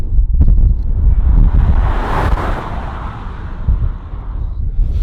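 Strong outdoor wind buffeting a microphone on a cold, windy day, a loud continuous low rumble and roar with gusting swells, no voices.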